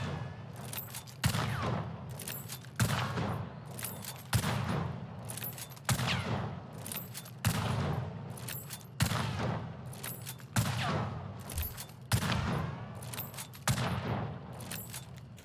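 A video-game weapon fires at an increased rate of fire, producing a steady series of about ten evenly spaced loud shot bursts with no talk over them.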